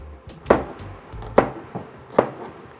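A knife chops an onion on a board in a kitchen, three sharp evenly spaced chops with softer knocks between them, close and clear with no talking.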